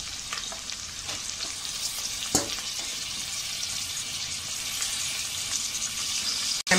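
Tomatoes sautéing with onion and ginger-garlic paste in a pan give a continuous close hiss of frying, with an occasional clack of a spatula and faint stirring, no voices.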